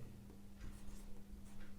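Faint scratchy strokes of writing on a classroom board during a Hindi grammar lesson, a few short marks in quick succession over a steady low hum.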